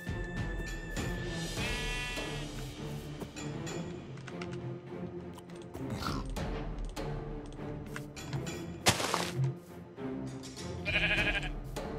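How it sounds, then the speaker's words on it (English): Sheep bleat in the block-building game Minecraft, several short wavering cries mixed with taps and other game sounds at moderate level, with no talk. "Sheep. Red sheep."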